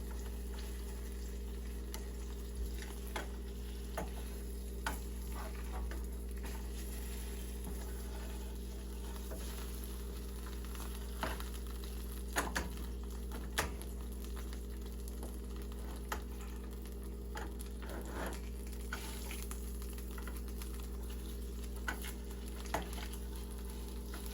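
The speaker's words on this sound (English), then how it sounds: "And then I'll like fry this." Ingredients frying in a pan for bean dip: a faint, steady sizzle with scattered soft pops and stirring clicks over a constant low hum, continuing evenly without talk.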